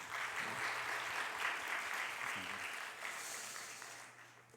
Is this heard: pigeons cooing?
no